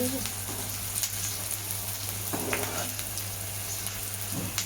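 Onion, green chili and curry leaves sauté in a pan for upma, a continuous close sizzle with faint scrapes of stirring.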